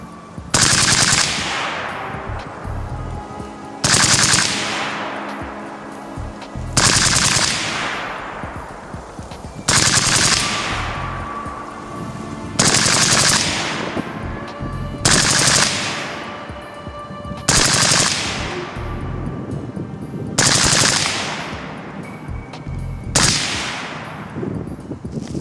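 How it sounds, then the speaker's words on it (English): A RECCE LMG-L rifle fires bursts of automatic fire at a steel target, about nine loud sharp volleys spaced a few seconds apart with ringing echoes between them. "automatic fire."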